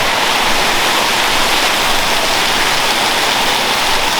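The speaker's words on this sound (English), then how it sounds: "This little rainstorm's been not going for long, but so far we've had about 30 millimetres of rain" Heavy rain pours down outdoors on a construction site, a loud, dense, unbroken hiss of water striking surfaces, with no voices.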